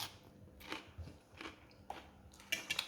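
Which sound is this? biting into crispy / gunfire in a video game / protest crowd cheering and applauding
biting into crispy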